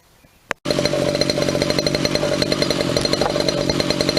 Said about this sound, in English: this is a Predator Gasser running with the new carburetor, no air cleaner, just running for a little bit